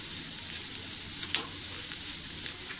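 Turmeric sautés in a pan over medium gas, giving a steady close frying sizzle with faint scattered crackles and one small clink of a utensil, and no talk.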